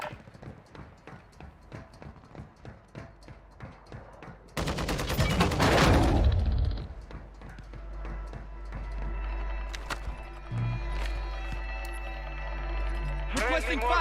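Gunfire rattles in Call of Duty Warzone Resurgence, rapid regular shots at first, then a dense loud burst of automatic fire and blasts, fading into music and scattered game sounds with voices talking over it.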